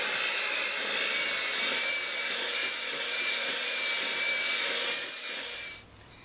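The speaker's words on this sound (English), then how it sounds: "We have mixed for 2 minutes with the mixer." Electric hand mixer beating chocolate cupcake batter, a loud continuous whirring hum that holds steady then winds down and stops near the end.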